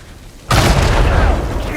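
A loud explosion erupts suddenly in the Uncharted 4 video game, a broadband boom that stays heavy and rumbling for over a second after a quiet lead-in.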